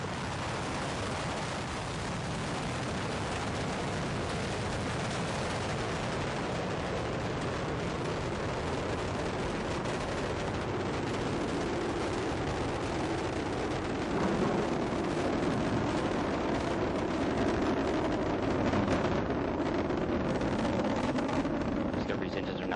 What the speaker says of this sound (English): The space shuttle now rolling over onto its back with a 10-minute ride into orbit.